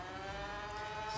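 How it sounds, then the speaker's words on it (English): A World Tech Warrior Renegade foam dart blaster spins its flywheels up to speed, giving a steady, close electric motor whine that holds level without a break. "Let it rev up."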